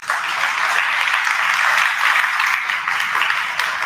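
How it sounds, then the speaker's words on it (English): A full round of audience applause at a live community performance jam, loud and sustained throughout with a dense, even texture and no gaps. "Can we get one more round of applause for that?"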